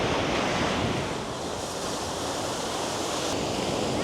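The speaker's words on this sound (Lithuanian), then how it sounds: "Jūra šėlsta šiandien." Stormy sea on the Cornwall coast, waves crashing and surf roaring in a dense, continuous wash of noise, close and loud, mixed with heavy wind buffeting the microphone and no talking.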